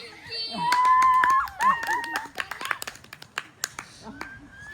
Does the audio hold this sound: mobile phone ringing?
no